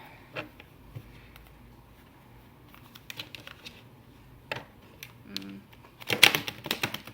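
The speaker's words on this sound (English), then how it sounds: "Let me shuffle it like this then." Soft intermittent riffling and light taps of tarot cards being shuffled, quiet and close, building to a brisker burst of flicks near the end.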